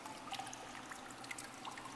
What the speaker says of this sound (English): Turn the water on.